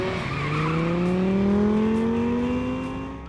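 A luxury car pulls away and accelerates, its engine note climbing steadily in pitch, loud and close, then easing off slightly at the end.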